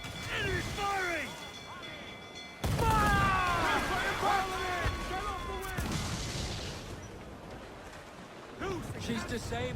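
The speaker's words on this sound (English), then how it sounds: "Enemy firing!" Enemy ship cannons in Assassin's Creed 4 fire a loud opening boom, then a heavy volley with crashing impacts, then later blasts at sea, all under excited game voices and tonal shouts.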